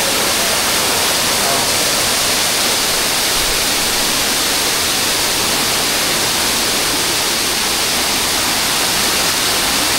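Water pouring down at Tatlong Falls, Bulusan, Sorsogon, a constant full-bodied rush heard from nearby, unbroken and uniform throughout, with no talking over it.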